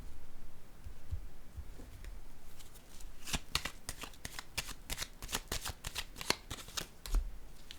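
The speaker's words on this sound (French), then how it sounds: "Je vais déposer une autre carte." Tarot cards being shuffled and set down on a table: soft shuffling at first, then a quick run of crisp card flicks and snaps, close and fairly quiet, with no voices.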